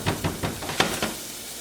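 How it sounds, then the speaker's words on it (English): Minced shallot sautés in a pan with a soft, steady sizzle, broken by a few light stirring scrapes and knocks, close and with no voices. "Love the smell of sautéing shallots."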